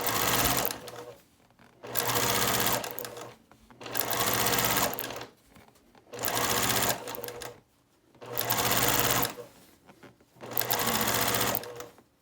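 A sewing machine stitching a quilt with a 1/4 inch foot runs in six steady bursts of roughly a second and a half each, separated by short pauses while the fabric is adjusted.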